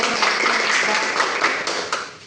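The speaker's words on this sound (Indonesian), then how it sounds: "Tepuk tangan dulu untuk kelompok" Audience applauding a discussion group at a university microteaching competition: a dense, steady wash of clapping from many hands, close and loud throughout.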